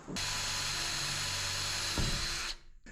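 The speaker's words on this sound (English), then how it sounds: "Now that I've got the pilot hole drilled for the supplied lag bolt" A power drill bores a pilot hole into a wall for a lag bolt while a kayak hoist is being mounted, giving one steady, close, high whine of about two and a half seconds before stopping.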